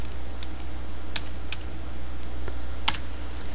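Typing a command on a computer keyboard, a handful of sparse, crisp key clicks spaced irregularly over a low steady hum.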